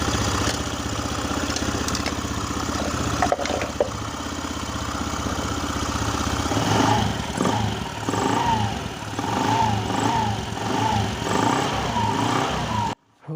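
A Honda Scoopy scooter engine on a test after repair, running steadily close by with several rises and falls in revs, then cutting off abruptly at the end, with no talk.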